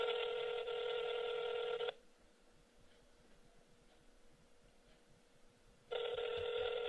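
A telephone ring tone sounds during an outgoing call, two long steady ring bursts separated by about four seconds of quiet line, loud and close with no talking.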